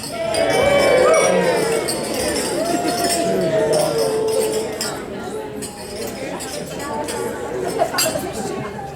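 Glasses chink and clink together in a wedding toast among a crowd of guests, with steady chatter and voices throughout and light bright taps scattered across the scene.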